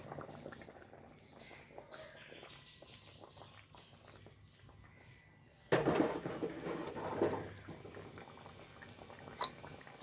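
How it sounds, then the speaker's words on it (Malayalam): Vala fish curry with roasted ground coconut bubbles in a covered pot, a soft steady simmer that grows louder and fuller at about the midpoint, with faint clinks of cookware. "ഇതാ നോക്കും നല്ലോണം തിള വന്നു"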